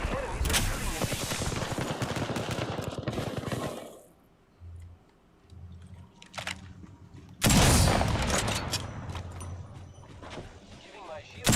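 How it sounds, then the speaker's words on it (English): Enemy gunfire in a shooter video game, dense bursts of rapid shots that drop out for a few seconds, then return loud and close. "The enemies are shooting at me."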